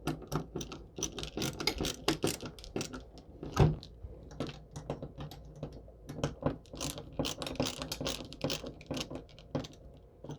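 A screwdriver turns screws down while a CPU is installed in a budget PC build, giving rapid, dense clicking and ratcheting ticks with a few louder knocks, close and alone.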